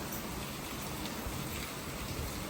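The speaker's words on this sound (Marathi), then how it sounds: "दहा वाजलेत रात्रीचे आणि पावसाने हजेरी लावले मोठा आहे पाऊस" Heavy rain falls at night, a dense, even hiss of downpour that fills the whole stretch at moderate distance, steady and unbroken, with no voices.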